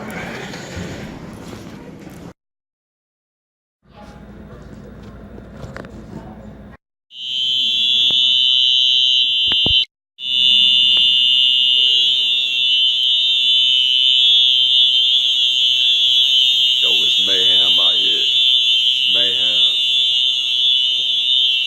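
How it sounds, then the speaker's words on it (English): A shrill, continuous courthouse fire alarm blares loud and steady for many seconds after some brief silences and muffled noise, with a few faint chirping sounds near the end. "The alarms are off."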